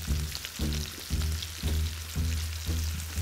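Filet mignon medallions with shallots sizzling in a pan, a steady close frying hiss with rhythmic pulses as the pan is worked, no talk.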